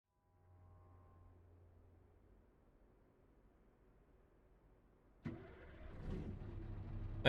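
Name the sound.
Scania Next Gen truck engine in video game Euro Truck Simulator 2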